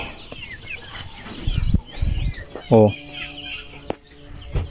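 Chickens in their pen give a few squawks and one loud, drawn-out call, with shuffling and scattered chirps around them while a person talks briefly nearby.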